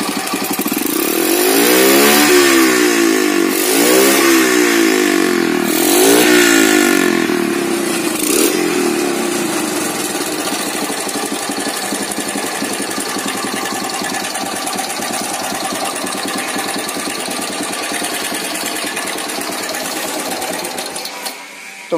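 A worn-engine motorcycle is kicked over and revved in a workshop, several loud rising-and-falling throttle blips up close, then settling into a rough, steady idle that runs on to the end.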